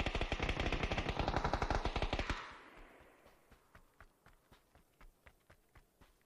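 In PUBG on the Miramar map, a rapid burst of automatic gunfire is followed by slower, fainter single shots and distant pops.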